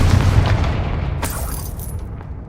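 A Confringo spell explodes in Hogwarts Legacy: one loud, close boom with a deep rumble that trails off over a couple of seconds, with a bright crackle partway through the decay.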